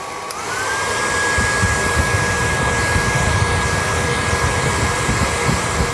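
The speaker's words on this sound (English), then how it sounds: "Back to the hair dryer, same thing again, medium heat" A hair dryer on medium heat, used to style a mustache, blows steadily at a constant pitch, a continuous airy whoosh close by with no voices.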